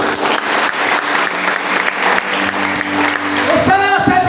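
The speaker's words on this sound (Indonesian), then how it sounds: "Beri tepuk tangan untuk Tuhan Allah kita." Congregation clapping at a Christmas church service, a steady dense applause that fills the whole stretch, with other sounds and a voice rising near the end.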